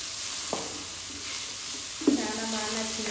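Curry fries in a pan with a steady, close hiss, broken by two sharp clinks of a utensil stirring it.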